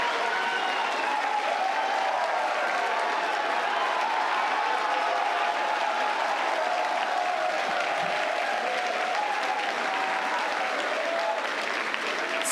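Crowd applause and cheering from employees at Hawthorne and Starbase during Starship Flight 10's Starlink test satellite deploy, a steady dense roar of clapping and voices sustained throughout at high level.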